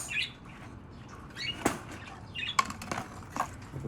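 A seagull flaps its wings as it is released at a bird reserve, a few brief close wingbeat bursts with faint chirps over low background noise.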